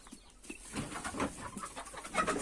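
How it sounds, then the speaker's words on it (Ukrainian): A rooster and hen cluck softly in a farmyard, several short low clucks spread through the moment at moderate distance, with light background rustle. "Раз гляну півень, другий раз гляну курка."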